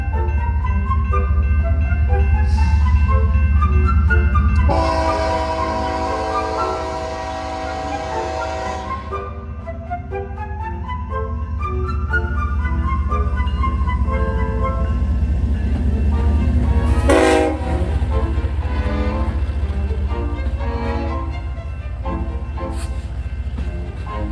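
A freight train rolls past close by with a steady heavy rumble, and its horn blares in long, loud sustained blasts, one stretching about five seconds midway, over continuous wheel and engine noise.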